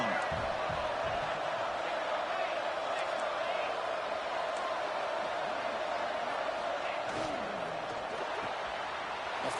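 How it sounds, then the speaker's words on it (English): Stadium crowd at a college football game between Texas and Oklahoma State, roaring steadily to back the defense in the red zone, a dense continuous wash of many voices with occasional whoops, heard from within the stands under a broadcast commentator's voice. "the crowd coming to life here, trying to help this defense down in the red zone"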